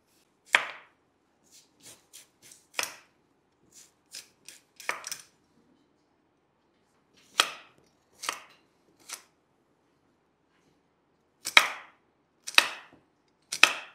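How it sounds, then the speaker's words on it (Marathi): Carrots chopped finely with a knife on a cutting board, sharp isolated chops coming in uneven bursts with quiet gaps between, close and clear with no voices. "गाजरसुद्धा असे छान बारीक चिरून घ्यायचे."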